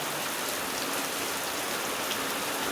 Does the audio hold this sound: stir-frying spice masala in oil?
no